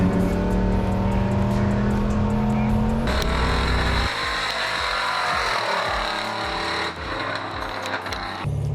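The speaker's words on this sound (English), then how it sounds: "There is something brilliant about the sound of a big turbo in a diesel." A 700 hp 6.0 Powerstroke diesel with a big turbo roars loudly under hard throttle, the turbo's whistle rising and shifting as the engine pulls, close and continuous with speech at moments.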